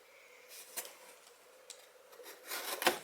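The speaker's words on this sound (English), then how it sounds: "That's that popping noise you heard where the seals open." Seals on Delta kitchen faucet packaging pop open with faint, brief crackles and snaps over soft rustling of the box. A sharper pop lands near the end, all quiet and close.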